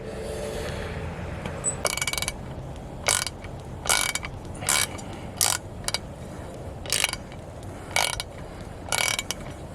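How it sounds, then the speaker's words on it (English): A ratchet and socket working a size 13 bolt on a Mercury 20hp outboard, with sharp clicking bursts at a regular pace over a low background hum and no speech. "This is a size 13 bolt, and I'm using a ratchet and a socket."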